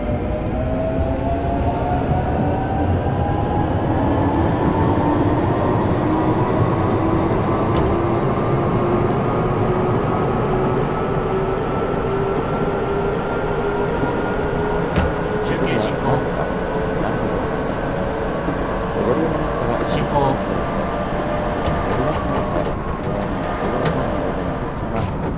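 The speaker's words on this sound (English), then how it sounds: "It's time to maneuver our train out of the station" A Keisei, Toei or Keikyu commuter train pulls out of a station in the Train Simulator PS2 game, a steady loud rumble with a rising motor whine sliding upward throughout, continuous and close.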